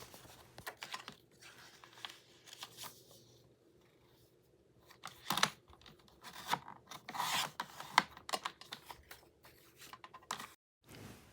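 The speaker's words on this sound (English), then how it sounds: "Now I'm going to go ahead and cut off the sides of the envelopes so that we'll only have the front of the envelope left." Scissors snip and paper rustles as the sides are cut off bank money envelopes, with scattered quiet crisp cuts and rubbing sounds separated by near-silent pauses.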